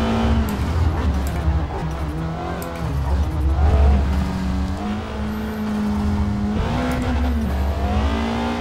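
A race car in Forza Motorsport 2023 accelerates hard and shifts through the gears, with rising engine whines and a brief tire squeal, loud and continuous.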